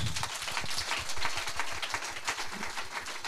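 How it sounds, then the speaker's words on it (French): A crowd at a Christian gathering applauds itself, producing a steady wash of clapping from many hands throughout at moderate loudness. "Acclamons pour nous-mêmes."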